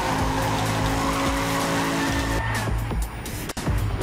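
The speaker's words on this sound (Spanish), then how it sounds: "se pudrió el sonido del coche" A car engine in the racing video game Trackmania 2 Canyon drones loudly at steady pitch, then tires skid and squeal as the engine tone shifts, with a sharp bump near the end.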